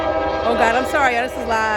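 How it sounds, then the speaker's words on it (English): A passing train sounds its horn in sustained, slightly wavering blasts that fill the moment, loud and close, while someone speaks over it. "That's the train."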